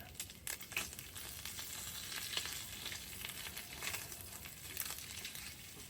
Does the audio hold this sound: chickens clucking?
no